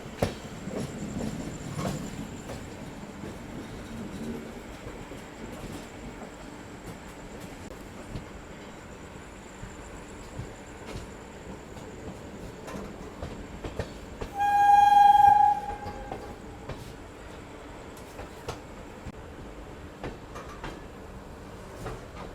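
The Dibrugarh Rajdhani Express rumbles faintly as it is shunted into Katihar station, with scattered clanks over a low rolling drone and one clear horn blast partway through.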